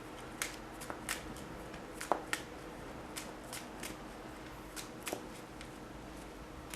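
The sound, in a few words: shuffling a deck of Magic: The Gathering cards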